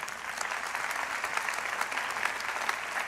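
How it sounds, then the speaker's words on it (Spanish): Dense, continuous applause from a large church congregation, steady and full-bodied throughout with no pauses and no clear individual claps standing out. "Dele un aplauso al Señor, amén."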